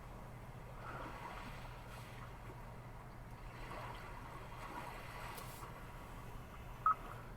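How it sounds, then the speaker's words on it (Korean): Soft, steady wash of gentle ocean waves played back as a built-in nature sound in a Kia K7 Premier Hybrid, slow swells rising and falling faintly in a continuous low murmur, with no voices. "잔잔한 파도 소리고요"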